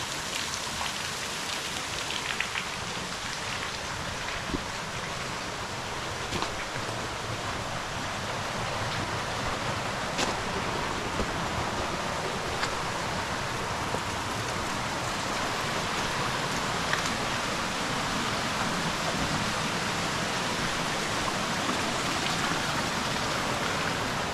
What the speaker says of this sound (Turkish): Evet burada bir dere var.